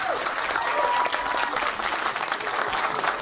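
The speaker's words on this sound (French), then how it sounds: "Allez bien, Salina, sous vos applaudissements" Sustained audience applause for an actress at a stage event, a thick continuous roar of many clapping hands holding steady throughout.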